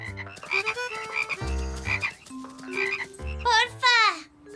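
Several frogs croak loudly in a cartoon scene, rapid ribbiting calls layered with bright musical tones, alternating bursts and pauses close up with no talking.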